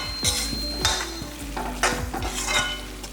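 Tempering spices sizzle loudly in a hot pan while a utensil scrapes and stirs in repeated rhythmic strokes, close and without talk.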